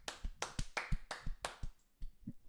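A handful of hand claps from one or two people, close and quiet, about seven sharp claps in an uneven rhythm that fades out with a couple of softer taps.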